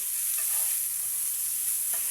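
Fish frying in a pan, a close, loud, unbroken hiss of spattering oil with faint crackles, no voices.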